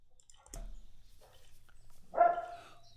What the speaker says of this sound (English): you can hear the dog starts barking right in here